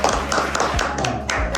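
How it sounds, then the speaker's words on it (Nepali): Rapid hand clapping for a sister's birthday, a run of sharp claps close by over a low steady hum, with no pause between them. "ताली ताली ताली ताली ताली ताली ताली।"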